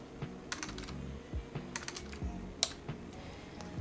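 Computer keyboard keys tapped for Photoshop shortcuts, a quiet, close run of irregular clicks and clacks with small pauses between bursts, no voice over them.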